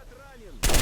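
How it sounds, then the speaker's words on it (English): A grenade goes off in S.T.A.L.K.E.R. Anomaly, a sudden loud broadband blast that breaks in after a quiet stretch carrying faint game tones. "You just tossed a grenade"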